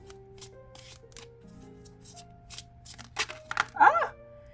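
Tarot cards are shuffled and drawn, giving quick papery riffles and flicks that build to a brisk burst near the end, with a voice speaking softly between them.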